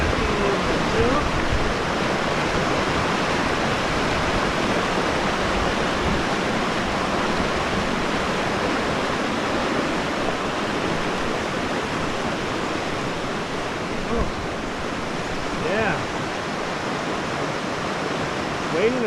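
Rushing water from a mountain stream on a hiking trail near Kings Peak forms a dense, steady roar throughout, with faint voices occasionally audible beneath it.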